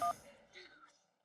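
A telephone dialled at home, one short sharp electronic dial tone at the start, followed by quiet talk.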